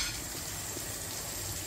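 A pot of zucchini and onion sweet-sour preserve bubbles at a boil, giving a steady, close, broadband sizzling and bubbling hiss with no talk.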